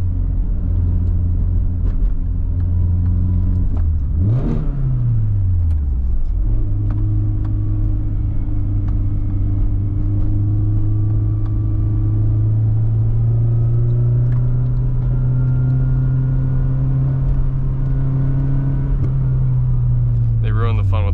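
A classic Nissan 240SX swapped to a manual transmission cruising on the road, with a loud steady engine drone inside the cabin, a gear change with a brief rev dip early on, then smooth sustained running that eases off toward the end.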